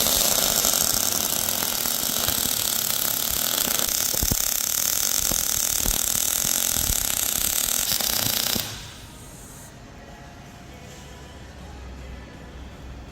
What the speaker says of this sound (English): Now he's just going to run around and finish off all the welds